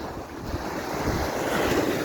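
Sea surf rolling steadily onto a quiet resort beach, a continuous broadband wash of waves mixed with gusty wind noise on the microphone, with no voices.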